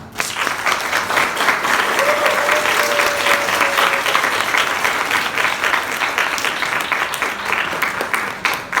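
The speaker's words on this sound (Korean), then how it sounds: "말씀을 전해주실 고성준 목사님께서 나오실 때 모두 큰 박수로 맞아주시기 바랍니다" Big, steady applause from a university worship service audience welcoming a pastor to the stage, dense and loud throughout, with crowd noise and a brief tonal note mixed in.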